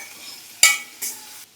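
Vegetables with slit green chillies frying and being stirred in hot oil, two short bursts of sizzling scrape and stir against a quiet kitchen background.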